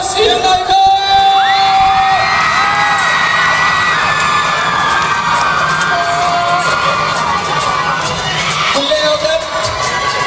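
The blue team's cheering squad at a school football match roars with loud crowd cheers, children's shouts and whoops, plus a few high whistle-like tones cutting through the noise.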